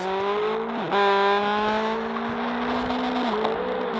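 Default car in the DriveX video game accelerating through its gears, a steady engine whine that climbs and drops at each shift, with faint tire noise.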